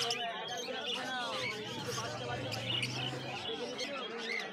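Fischer's lovebirds, a lutino pair, chirp and twitter steadily at a busy pet market, with overlapping bird calls, crowd babble and low background noise throughout.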